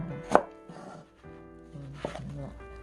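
A knife slices thinly through an onion on a board for kimchi, giving one sharp close cut followed by a few softer strokes, with someone talking over it.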